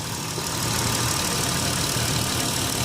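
A 2010 Dodge Grand Caravan SE mobility van's 3.3 V6 engine idles smoothly under the open hood, a steady, close, broadband hum and whir running evenly from start to finish with no talking.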